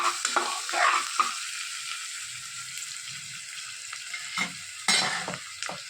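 Onions and vegetables sizzle in a pan while sautéing for sambar, a steady frying hiss with a few sharp scrapes and stirring clatters, close and continuous with no talk.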